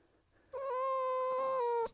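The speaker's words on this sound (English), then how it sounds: "And this is what a cat sounds like." A single drawn-out cat meow, loud and close, rising slightly then holding steady for over a second before cutting off.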